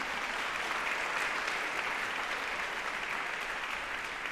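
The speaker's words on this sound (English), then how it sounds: "Let's give them another round of applause for their statements of peace." Steady, dense applause from an audience at a Martin Luther King Day celebration in Montgomery County, Maryland, honoring clergy, sustained at an even level throughout with no voices standing out.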